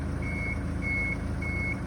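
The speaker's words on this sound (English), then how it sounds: "listen for 2 beeps to show that the ramp is in the right spot" A Toyota Hiace diesel rental van gives three evenly spaced, steady electronic beeps confirming its ramp position, sounding over a low, constant idling engine rumble.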